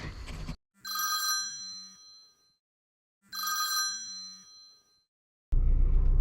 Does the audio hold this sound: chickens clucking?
no